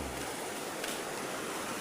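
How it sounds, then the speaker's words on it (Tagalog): Flowing water of a clean river in Barangay Katigan, Tayabas, Quezon, a broad steady rush like surf with a low rumble, close and continuous with no voices. "makikita natin ang isa ring napakalinis na ilog na masarap pagpiknikan"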